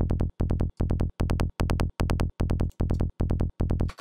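Synthesized kick drum built in Xfer Serum with a buzzy noise-oscillator attack click layered on top, struck repeatedly in quick bursts, punchy and loud with no talking.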